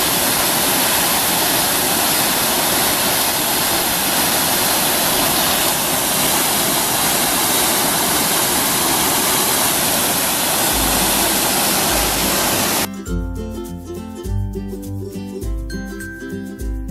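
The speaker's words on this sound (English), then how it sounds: "That's a bunch of water coming out of there." Water gushes through the Gull Lake Dam where a chunk of concrete has been busted out, a loud, continuous roaring rush. The last few seconds cut to music.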